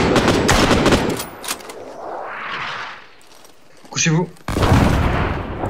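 Cannon blasts and bursts of gunfire in a 1944 Russian-front WWII game battle, a cluster of sharp shots at first, then a swelling whoosh and one more blast, with a voice speaking among them.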